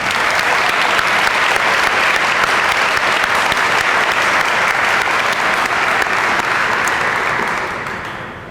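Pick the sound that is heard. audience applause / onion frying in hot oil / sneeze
audience applause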